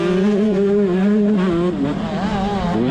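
125cc motocross bikes racing at full throttle, several high-revving two-stroke engines screaming together with rising and falling pitch as they shift, loud and close, with no speech.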